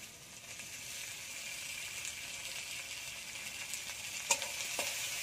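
Tomato and capsicum fry in a pan with a soft, continuous sizzle, faint and steady, with a couple of small clicks from a utensil near the end.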